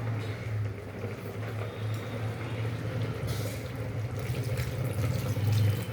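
Water poured into a cooking pot in a home kitchen, a soft continuous splashing fill heard close up at low volume, steady throughout with no talking.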